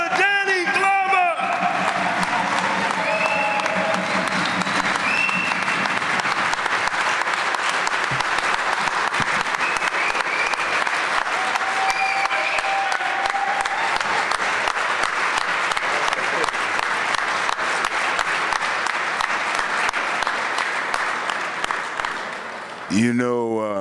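An audience gives a standing ovation for an honored guest, a loud, sustained roar of applause with some cheering, a voice briefly heard at the start and applause fading toward the end.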